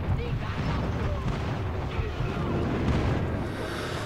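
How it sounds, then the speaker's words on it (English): Airstrike explosions in the shooter game Call of Duty Mobile roll together into a loud, continuous rumbling barrage of deep booms, with gunfire-like crackle throughout. "Friendly airstrike incoming."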